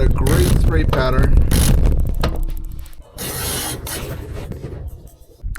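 A diesel injector from a Mercedes pops off at 2000 psi during a pop test, giving bursts of sharp hissing spray and mechanical clicks from the tester, close and loud, with brief gaps between the spurts.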